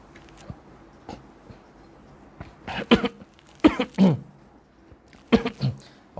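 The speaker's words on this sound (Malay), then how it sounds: "Oh, minta maaf batuk sikit malam ni." A man coughs and clears his throat several times in short, close, loud bursts, separated by quiet pauses with soft rustling in a quiet room.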